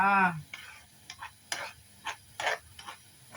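Curry ingredients for a pork and eggplant coconut curry are stir-fried in a pan, with a brief voice at the start followed by a handful of quiet, irregular spatula scrapes over a faint sizzle.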